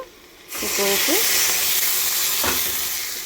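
Tempering spices frying in hot oil for buttermilk rasam, a loud continuous sizzle that bursts in and holds steady, with a brief voice early on and a stirring scrape partway through.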